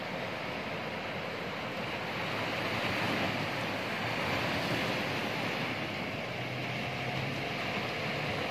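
Steady roar of high ocean surf on Indonesia's south coast with waves breaking continuously, dense and broadband, wind rumbling underneath; no voices.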